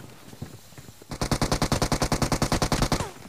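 Rapid automatic gunfire in a battle royale shooter game: a few scattered shots, then a loud, even burst of about twenty rounds in quick rhythm that cuts off sharply.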